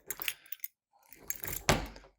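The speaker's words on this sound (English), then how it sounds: "Oh, keys come out again." A short, close jangle of keys at a door lock, two clustered bursts of metallic rattling separated by a brief pause, with a little faint voice nearby.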